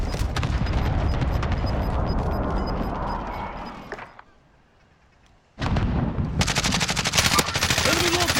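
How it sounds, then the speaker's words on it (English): Precision airstrike explosions in Call of Duty Warzone arrive as dense, loud bursts of rumbling blasts and rapid gunfire. A short muffled lull follows, then another heavy barrage of close impacts. "Enemy precision airstrike,"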